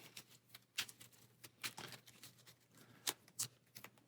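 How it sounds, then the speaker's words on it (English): Job cards from a board game are shuffled by hand, a quiet run of soft riffling taps and sharper card snaps at an irregular rhythm, close by. "Give those a shuffle."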